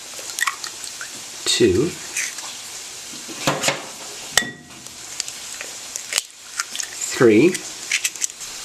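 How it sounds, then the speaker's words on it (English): Three eggs crack into a bowl while cooking a canned salmon scramble, sharp isolated taps and cracks spread across several seconds as someone talks between them. "I'm going to break, let's see, how about 3 eggs into my bowl here"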